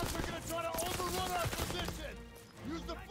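Rapid suppressive gunfire in Call of Duty WW2, a dense burst of automatic shots mixed with game music and effects, continuous and fairly loud throughout.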